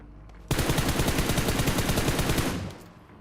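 Rapid automatic gunfire from the video game PUBG Mobile: one loud continuous burst of closely spaced shots lasting about two seconds, then fading away.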